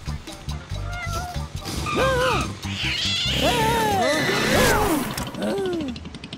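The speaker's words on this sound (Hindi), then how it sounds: "बढ़िया बिल्ली" A cartoon cat meows and yowls several times in rising and falling cries over busy background music and effects, growing louder in the middle.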